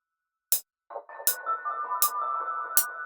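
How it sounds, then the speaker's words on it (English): Piano-like synth preset called Embrace with delay on it, soft sustained chiming notes with echoing tails, faint and close, paced by sharp regularly spaced clicks like a metronome or hi-hat. "And it's sort of like some piano with delay on it"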